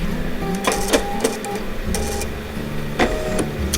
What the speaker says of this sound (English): I'm going to stitch out now the placement line for the fabric